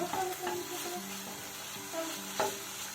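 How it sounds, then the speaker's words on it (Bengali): Spice paste frying in oil in a pan, a steady close sizzle with stirring scrapes of a spatula and a few light utensil knocks, no talking. "মশলা থেকে তেল ছাড়তে শুরু করে দিয়েছে"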